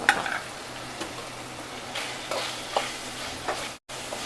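Curry leaves are dropped into hot oil for a Hyderabadi-style kaleji, raising a loud, continuous close sizzle with occasional stirring scrapes and sharp spits.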